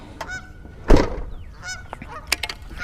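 Several geese honk loudly near a body of water during a fishing outing, calls coming in repeated bursts with one strong thump-like burst in the middle.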